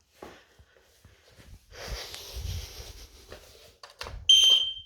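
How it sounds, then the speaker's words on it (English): A ground floor smoke alarm in a house is tested, ending in a loud, piercing electronic beep near the close. Before it come quiet handling noises, footsteps and breathing, with no speech. "test the ground floor smoke alarm and the CO alarm as well"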